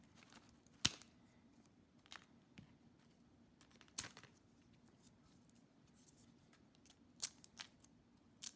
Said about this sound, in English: So I'm gonna cut this decoration leaf.